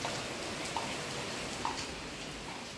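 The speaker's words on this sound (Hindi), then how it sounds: "बाहर बारिश आ रही है" Steady, dense hiss of rain falling outside, continuous and even throughout with no voices.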